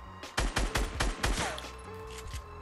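Shotgun fire in the Fortnite battle royale game, a quick burst of several loud, punchy blasts in rapid succession within a few seconds, followed by quieter game sounds.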